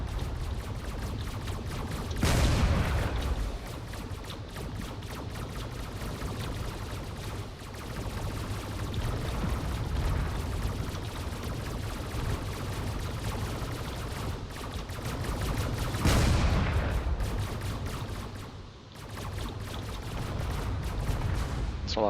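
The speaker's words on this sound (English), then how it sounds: "There's a lot of railgun fire down there." Railgun fire crackles through a space battle in the video game Drone Wars as a dense, continuous stream of shots, with two louder bursts standing out against the steady barrage and no voices.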